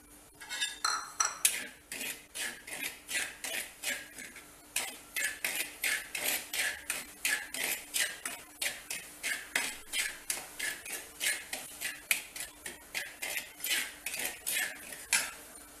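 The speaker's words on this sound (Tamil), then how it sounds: "ரவையை ரோஸ்ட் பண்ணிக்குவோம்." A spatula steadily stirs wheat rava roasting in a little oil in a pan, making close, rhythmic metallic scrapes and taps, about two per second, with no voices.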